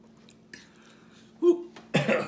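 A person eating angel hair pasta with bacon and ham alfredo coughs a couple of times after a noodle goes down the wrong pipe, short and close, the last cough loudest.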